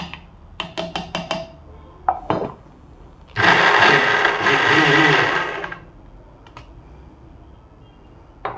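A blender grinding brinjal chutney with garlic runs in one loud, steady burst of about two and a half seconds, after a few sharp taps and clicks of the lid and jar. The clip ends in quiet with faint knocks.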